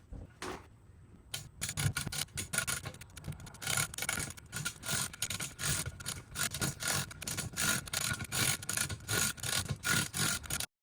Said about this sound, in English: So I've got this bore reamed out.